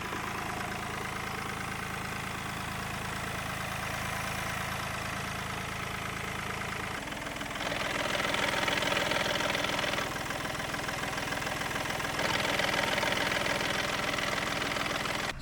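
A 1.4 TDI diesel engine idles after a flywheel and clutch repair, a steady low rumble that rises slightly when revved partway through and then settles, close and continuous with no talking.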